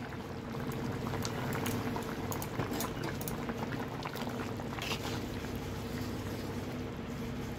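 A pot of tengra fish curry with cauliflower boils hard and close, a steady dense bubbling and sizzling that holds throughout with no talk.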